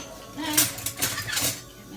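Metal spoon clinking against dishes while plant-based breakfast batter is prepared in a home kitchen; a few light, close clinks and clatters spread across a couple of seconds, with no talk.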